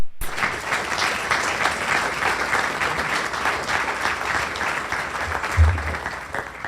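A luncheon crowd applauds speakers at a legislative update, a steady, fairly loud patter of many hands clapping held at an even level throughout.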